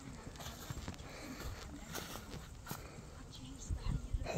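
Horse hooves clip-clop at a walking pace, fairly close, mixed with shuffling and background noise, with people talking nearby.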